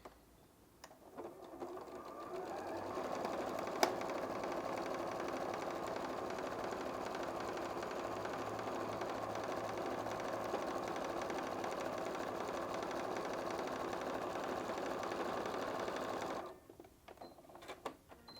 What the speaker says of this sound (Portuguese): Vou costurar o outro lado.